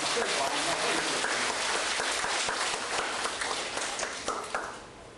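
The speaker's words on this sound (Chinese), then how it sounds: "就嘛着以热烈的掌声来邀请着咱的新闻合唱团来演奏" An audience bursts into warm applause to welcome a choir at a religious teaching gathering, dense clapping that is loud at first and gradually thins and fades toward the end.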